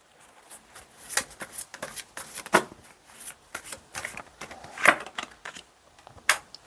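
Tarot cards are shuffled and drawn in a reading, with close, crisp riffling and slapping bursts in an uneven rhythm and no voices.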